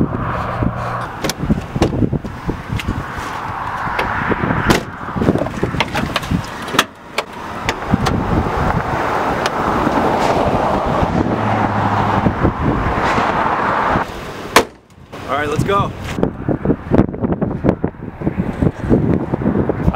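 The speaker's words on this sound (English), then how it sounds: "The roads are fine, but it's so windy." A van driving along a windy highway between Ontario and British Columbia, with steady broadband wind buffeting and road roar over the whole stretch and two brief dips in the rush.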